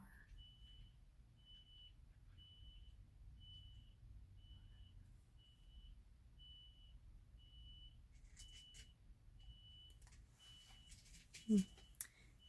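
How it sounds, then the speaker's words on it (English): Steady reversing beeps from a car backing up somewhere nearby, a regular pulsed tone repeating about every second over low background rumble, with some clatter and a brief thump toward the end. "there's a beeping noise going on. It sounds like somebody's backing up their car."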